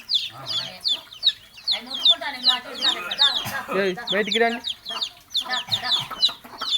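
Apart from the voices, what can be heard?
chickens clucking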